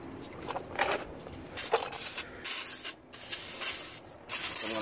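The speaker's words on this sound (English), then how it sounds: "I'm going to spray everywhere." Brake cleaner is sprayed from an aerosol can onto the front brake assembly of a 2014 Acura MDX, in several hissing bursts of varying length with short gaps and some rubbing and handling noise between them.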